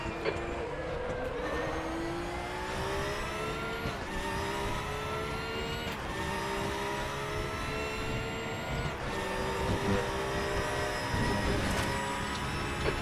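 Race car engines in the RaceRoom racing game drone steadily with continuous high whining tones that climb and drop between gear shifts, under occasional brief radio-style voice calls.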